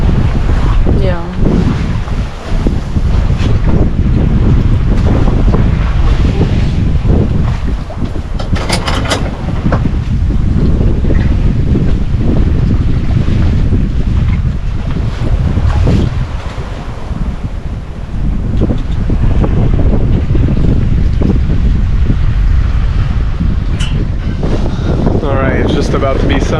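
Strong wind roars steadily across a microphone aboard a sailboat on an offshore passage at sea near sunrise, with waves and water rushing against the hull, loud and continuous throughout, and brief voices occasionally beneath the gusts.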